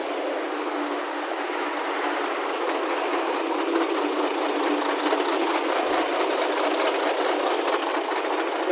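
An Isuzu Deca 320 diesel truck idles loudly through twin four-inch exhaust tips on both sides, with a rough, continuous rumble and an even exhaust drone that holds throughout.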